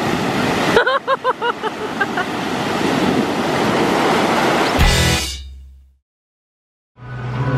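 Ocean surf at a beach during a surfing outing, broad roaring wash of breaking waves with wind buffeting the microphone, some brief tonal chatter early on, then a sudden cutoff to near silence before surf resumes.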